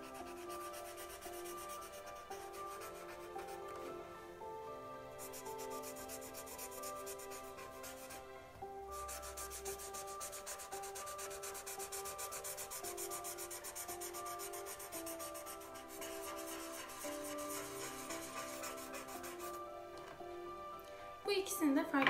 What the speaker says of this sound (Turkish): Değişik renklerde mandala boyayabilirim.